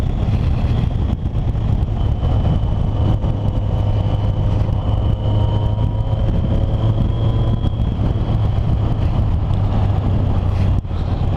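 A Yamaha XJ 650 Turbo motorcycle engine pulls steadily uphill in fourth gear around 3,500 RPM, a loud continuous droning hum with a sustained tone and heavy wind rush throughout, no talking.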